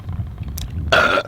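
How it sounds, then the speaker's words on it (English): A single loud, raspy burp after a drink of blended whisky and cola, starting with a low gulp and then opening into a broad rough blast that ends abruptly. "obligatory burp"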